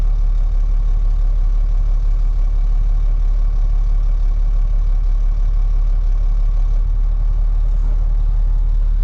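A diesel engine on an off-road haul truck idles steadily while the dump bed raises, giving a loud, continuous low rumble with no throttle changes.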